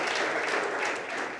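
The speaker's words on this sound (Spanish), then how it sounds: "Denle un aplauso al Señor. Fuerte, al Señor." A church congregation applauds loudly for the Lord during a sermon, a dense, continuous wash of clapping that holds steady through a brief burst.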